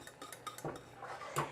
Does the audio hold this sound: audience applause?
no